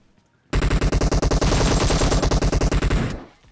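Rapid automatic gunfire in the mobile battle-royale game PUBG Mobile, a loud continuous burst of closely spaced shots lasting nearly three seconds, starting abruptly and then trailing off.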